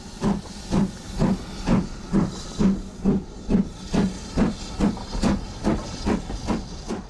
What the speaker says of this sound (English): 45622 passes through with a relief to the down Thames Clyde Express